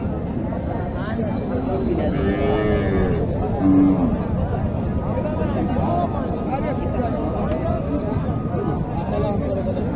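A local cow lets out a short, low moo amid the steady murmur of a crowded cattle market in Naogaon, Bangladesh, with voices chattering throughout.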